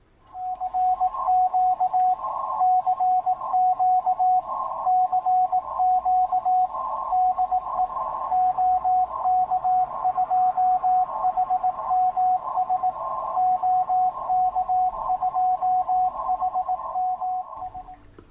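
A steady tone keys on and off in the rapid dot-dash rhythm of Morse code received live off the air, loud and continuous over a faint radio hiss.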